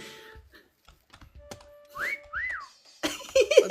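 A couple of short rising-and-falling whistles in a video game sound amid scattered clicks and keyboard-like tapping, followed by a burst of louder whistling at the end.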